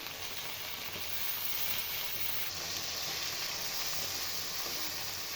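Cabbage Manchurian with tomato sauce, chilli sauce and soy sauce sizzles steadily in a pan over medium heat as it is stirred, a close, continuous frying hiss with no pauses.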